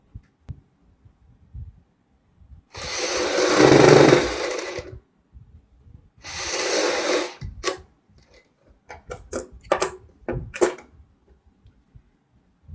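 A sewing machine runs loose basting stitches on a reworked embroidered suit, two steady whirring runs of a couple of seconds each followed by several short, quick bursts amid quiet handling noise.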